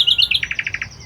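A common nightingale sings a short burst from up in a tree: a few high whistled notes followed by a fast, evenly spaced run of six loud chirps, close and clear over faint background noise.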